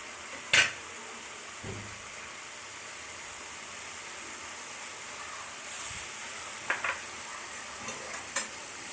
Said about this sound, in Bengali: সরষে বাটা দিয়ে এটাকে ভালো করে নেড়ে নেব।